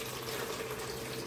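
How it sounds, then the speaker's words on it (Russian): Water pours into a container, likely a jar for salted cabbage with beetroot brine, as a steady, fairly soft splashing stream with no voices. "Наливаем эту воду"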